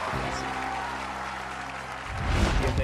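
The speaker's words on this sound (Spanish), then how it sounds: "Que siga ese aplauso, por favor, para Rebeca" Studio audience applause on a televised singing competition's battle round, a steady wash of clapping under a sustained musical tone that swells louder near the end.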